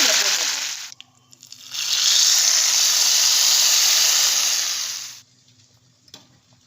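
Mustard seeds and curry leaves dropped into hot oil for tempering a Thiruvathirai kootu: a loud, close, steady sizzle and hiss that starts abruptly, holds for about three seconds, then cuts off, with a few faint clinks after.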